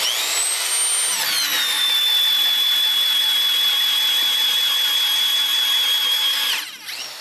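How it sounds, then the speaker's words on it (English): Power drill whines at high speed, boring a pre-drilled hole into a timber pergola post; a steady, loud, close motor tone ramps up, holds for several seconds, then winds down at the end. "we'll go ahead and pre-drill those marks"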